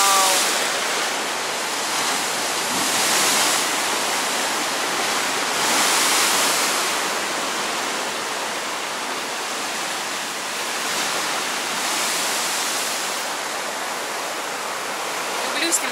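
Winter sea surf on the Montenegrin coast crashes and hisses steadily nearby, loud rushing swells rising and easing every couple of seconds.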